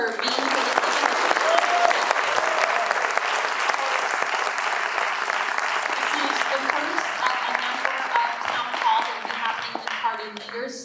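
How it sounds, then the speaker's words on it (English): Loud, dense applause from a town hall crowd for politician Jagmeet Singh, steady clapping filling the room throughout, with a voice briefly speaking over it. "I want to give Jagmeet Singh a round of applause for being"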